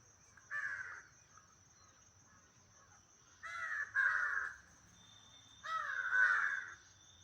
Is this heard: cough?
no